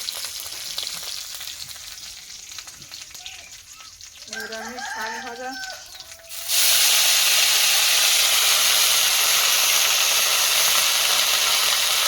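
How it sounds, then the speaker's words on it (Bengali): Red amaranth greens hitting hot oil with dried chili, garlic and whole cumin: a quiet, faintly crackling stretch with a brief call-like sound, then an abrupt, loud, steady hissing sizzle that carries on to the end. "শুকনো লঙ্কা রসুন আর গোটা জিরে দিয়ে লাল শাকটা ভাজবো"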